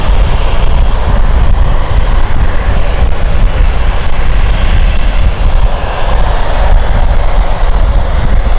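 An aircraft taxiing out at London City Airport, a steady loud engine roar with broadband rumble that holds constant throughout, close by with no talking.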